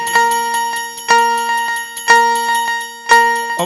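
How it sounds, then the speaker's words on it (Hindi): A bell rings about once a second, four clear, bright strikes with lighter taps between them, each note ringing on before the next strike, close and alone with no voices. "अब महाराज घंटी बजी"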